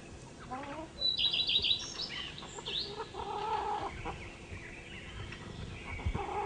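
A rooster on a Finnish farm gives clucking and crowing calls with a few sharp chirps, moderately close over a background hum, while someone speaks to it in between.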